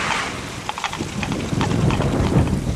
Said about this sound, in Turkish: Yılın bu mevsiminde bu rüzgar da ne böyle?